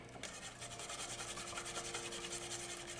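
Caesar salad dressing is whisked by hand until foamy, making a fast, even, rhythmic scraping and swishing close by without pause.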